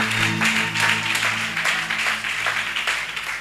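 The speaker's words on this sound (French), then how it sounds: "A clap for my daddy." A church congregation bursts into steady applause, a dense wash of many hands clapping close and loud across the whole stretch, with faint voices beneath.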